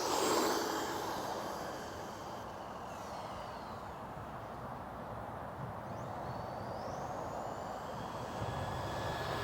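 A cheap RC car's electric motor at full throttle gives a steady, continuous high whine and rush that holds fairly constant, heard somewhat distant with a slight pitch sweep partway through.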